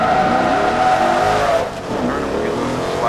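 In Forza Motorsport 2, a car's engine roars loud and steady while its tires squeal and slide through a turn, with a brief dip in the engine note partway through.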